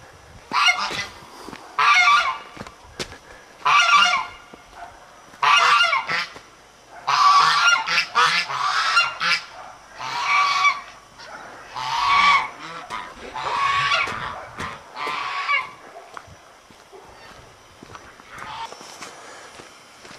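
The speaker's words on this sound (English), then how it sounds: "Oh, and they're geese. They always greet me when I go by." Geese honk in repeated bursts, loud and close, with short pauses between calls and faint footsteps underneath.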